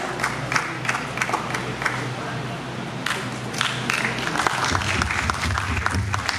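An audience at the Rachayita Sahityotsav 2023 Hindi poetry reading claps steadily in a hall, a dense, moderately loud patter of applause with crowd voices running over it throughout.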